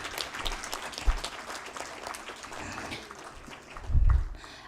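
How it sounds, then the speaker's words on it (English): A conference audience at a civil society conclave in India applauds, a dense patter of clapping hands that runs steadily for several seconds and swells near the end. "Please give a big round of applause."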